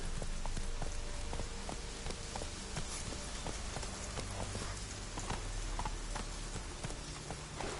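Hooves of the horse Roach in a video game beat out a steady, repeated clip-clop close by across the whole stretch, with a low background rumble and no speech.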